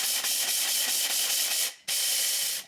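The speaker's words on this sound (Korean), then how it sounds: "믹서기에 갈아 볼게요" A kitchen blender grinds 200 g of raw rice into flour, giving a loud, steady, gritty whir that cuts out briefly and then restarts.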